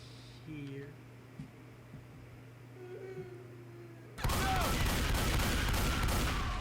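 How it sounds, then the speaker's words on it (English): An auto shotgun opens fire at the Witch in Left 4 Dead 2, a loud, sustained volley of rapid blasts that bursts in suddenly after a quiet stretch of faint ambient game noise. "when trying to kill a witch, stand back a little ways and fire at least 7 rounds with an auto shotty"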